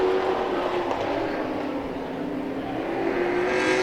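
Race cars finishing a short oval heat race at a hobby racing event, engines roaring together in a loud, continuous wash that dips slightly mid-pass and swells again.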